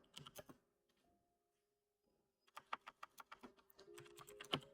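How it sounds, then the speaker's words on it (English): Off-screen typing on a computer keyboard, quiet and close: a short burst of key clicks, a pause with a faint tone, then a steady run of uneven keystrokes. "I'm just typing off screen here"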